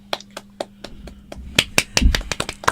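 Sharp, crisp hand claps close by, starting as slow, separate claps and quickening into a denser, uneven run, with a low thump partway through.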